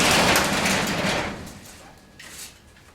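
A garage door being pushed open wider gives a loud rolling, scraping slide that fades over a couple of seconds, ending with a lighter rattle.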